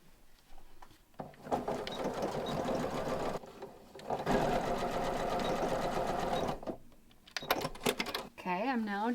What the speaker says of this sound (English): I'm just going to go to the sewing machine and sew a box with an X